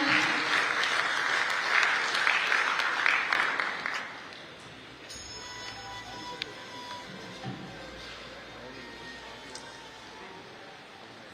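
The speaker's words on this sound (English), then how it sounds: "Applause, please, ladies and gentlemen." Audience applause fills a customs and freight-forwarders convention hall, loud and dense for about four seconds before fading to a quiet murmuring room.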